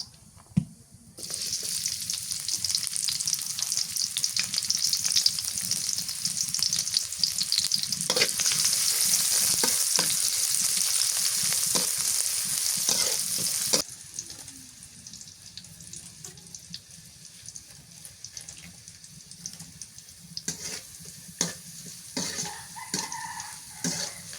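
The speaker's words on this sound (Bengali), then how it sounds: "পেঁয়াজ কুচি দিয়ে দিই" Chopped onion is dropped into hot oil in a pan and fries with a loud, dense sizzle that fades to a quieter crackle partway through, with stirring clatter near the end and no talking.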